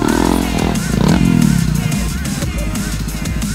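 A motorcycle engine revs up close, rising and then settling into a rapid putter, with people talking and shouting over it.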